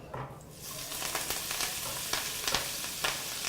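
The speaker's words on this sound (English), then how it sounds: "And then I'm gonna cook my vegetables. Getting my pan nice and hot." Zucchini, squash and bell peppers sauté in olive oil in a hot pan, a steady broadband sizzle rising after a quiet start, with brief crackling spikes throughout and no talking.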